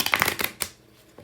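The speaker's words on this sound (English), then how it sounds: "I don't like to shuffle the cards like this" Tarot cards shuffled by hand, a quick run of soft riffling flutters and papery slaps close by for about half a second, then a single sharper card snap before the sound fades to near quiet.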